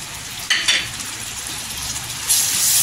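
Fresh yogurt sautéed in hot oil for a spicy green chili dish: a close, bright sizzle with stirring scrapes, swelling louder near the end.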